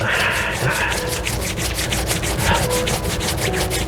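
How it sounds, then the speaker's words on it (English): Hands rubbed together in a steady back-and-forth rhythm during a relaxing tai chi and qigong session, a continuous close, dry friction sound with repeated strokes and no talking. "relaxing, rubbing your hands"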